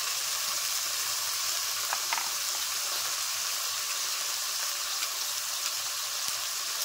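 Fish sizzling in a hot pan after a little water is added: a steady, fairly quiet hiss and crackle of frying fills the whole stretch, with faint bubbling and no speech.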